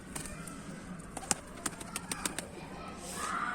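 A black Baska pigeon lets out a series of sharp wing flaps and claps as it takes off, quick uneven bursts at close range over soft background noise, with no voices.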